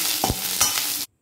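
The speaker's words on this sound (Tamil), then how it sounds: "இப்போ கருவேப்பிலை நல்லா ஃப்ரை ஆகுது வரைக்கும் வறுத்துக்கோங்க." Curry leaves fry in hot oil for idli podi, giving a loud, steady sizzle broken by a couple of stirring scrapes before the sound cuts off abruptly.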